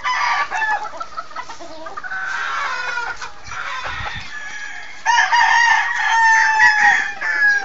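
Roosters of a round neck chicken breed crow loudly and close, with several long drawn-out calls and clucking fowl around them in a farmyard.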